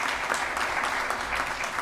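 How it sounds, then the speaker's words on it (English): Board meeting audience applauding a community member, a steady wash of dense clapping from many hands filling the room throughout, fairly close and even in loudness. "Danica Smithwick, will you please stand and let us applaud you?"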